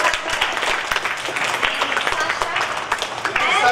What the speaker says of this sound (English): Have a clap for Joe.